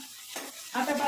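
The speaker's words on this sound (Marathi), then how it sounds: "फोडणी द्यायला आता बाई येणारी फोडणी" Spices for a pav bhaji tempering sizzle and crackle steadily in hot oil, close and moderately loud, swelling louder toward the end as more goes into the pan.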